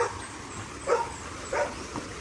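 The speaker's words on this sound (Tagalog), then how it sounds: "Ayun na naman yung aso. Maraming aso." Several dogs bark in the distance, a few sharp barks spaced out over steady outdoor background noise.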